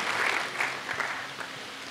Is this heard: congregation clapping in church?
yes